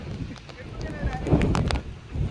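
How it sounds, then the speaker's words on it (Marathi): Strong wind gusts buffet the microphone at Worli seaface in Mumbai, rumbling low and uneven with rising surges, while people talk nearby. "कुठे आलोय मस्त वारा सुटलाय"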